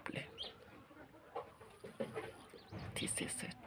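Chickens cluck softly in a poultry pen early in the morning, where a sick bird may be among them. The low, scattered clucks come amid rustling and other faint farmyard noise.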